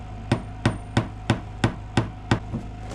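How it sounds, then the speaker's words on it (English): Hammer strikes on wooden woodshed siding, about eight sharp evenly spaced blows roughly a third of a second apart, loud and close with no talk. "We could have been in that loft hammering it in this whole time."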